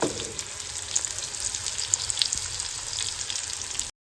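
Tuna fish frying in a pan on a stovetop, a steady bright sizzle with small pops and crackles throughout, close and fairly quiet, with no talking.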